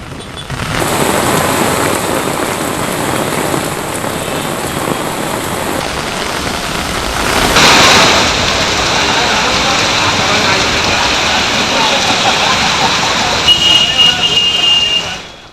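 A loud, steady roar of heavy rain in Hyderabad pours continuously, briefly swelling in intensity partway through, with some faint background noise.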